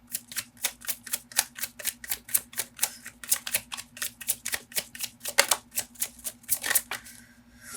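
Tarot cards being shuffled and drawn from the deck, a quick, steady run of crisp, close snapping clicks that continues evenly throughout with no voices.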